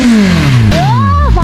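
A white trainer motorcycle revving hard, its loud engine note falling in pitch and then climbing again in a quick throttle blip, close by with no voices.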